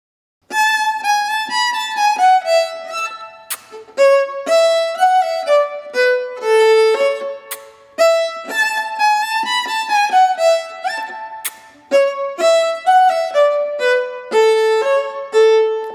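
A bowed fiddle plays short phrases of a polka, On Two Feet (Na Obi Nogi), in a slow, even tempo, with brief sharp kissing smacks popping into the eighth rests between notes.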